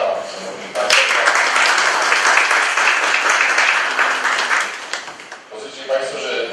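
Applause at a council session, starting abruptly and holding as a full, close wash of clapping before fading, followed by a brief speaking voice and a short final burst of claps.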